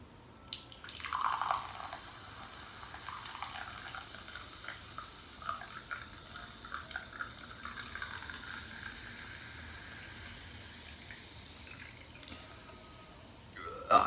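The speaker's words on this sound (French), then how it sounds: "c'est comme le Coca-Cola, ça pétille et ça peut partir en sucette" Liquid is poured up close, then a soft, continuous crackling fizz of bubbles carries on with small pops scattered throughout.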